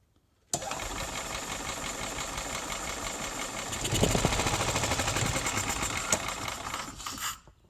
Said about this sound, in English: I had this engine running this Yamaha golf cart